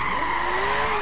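Tires skid and squeal steadily as a car drifts in Forza Horizon 3, a loud continuous screech with engine noise underneath, lasting about a second without a break.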